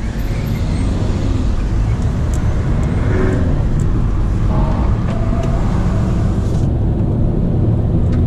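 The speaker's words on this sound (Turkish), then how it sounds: "Bakın bu nasıl bir trafiktir ya." Steady, loud road traffic around a Fiat Linea being driven, with a continuous roar of car and bus engines and tyre noise passing close by, the drone unbroken for several seconds.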